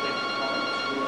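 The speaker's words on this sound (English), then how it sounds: "Inside, the phone never stops ringing." A telephone rings inside a bake shop, a steady electronic ring filling about a second before cutting off abruptly, close and loud with no talk over it.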